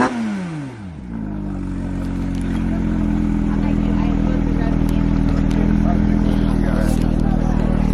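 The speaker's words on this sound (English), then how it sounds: "can we hear the engine?" A Porsche 959S engine revs up from a short blip into a loud, sustained, steady roar, close by and dominating throughout.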